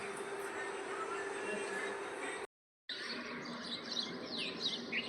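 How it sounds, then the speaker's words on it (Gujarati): Sparrows chirping in a steady high twitter with a brief silent gap midway; a voice talks faintly underneath. "મસ્ત મજાના ચી ચી ચી કરે છે"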